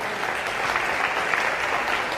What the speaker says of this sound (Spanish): Denle un aplauso al Dios de los cielos.